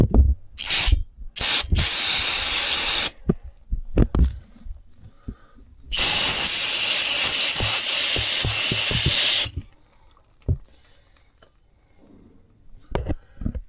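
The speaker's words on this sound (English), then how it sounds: "Brake cleaner is pretty awesome stuff." Brake cleaner blasting from an aerosol can while working on a John Deere 8130 tractor: several short bursts of loud, close hiss, then one long spray of a few seconds, with faint clicks and handling noise between.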